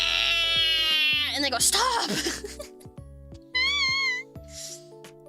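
A person imitates a cat meow in a deliberately harsh, uncute way, a quick wavering vocal cry that follows their own speech and is followed by further talking and a brief higher squeal.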